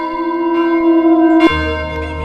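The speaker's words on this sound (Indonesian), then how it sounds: "suara lonceng itu muncul di depan mereka" A single loud bell tone rings steadily, then shifts abruptly to a lower, deeper strike that sustains.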